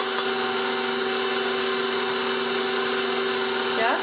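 An electric mixer runs on very low speed through cupcake batter, giving a steady, even motor hum at moderate loudness with no breaks.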